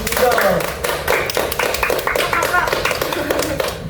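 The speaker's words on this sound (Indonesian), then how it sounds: "itu dia teman-teman dari bintang tamu kita kali ini, beri tepuk tangan dulu." A small group clapping for guest stars in a podcast studio, a few distinct hands beating in loose rhythm at close range for about four seconds, with voices over the clapping.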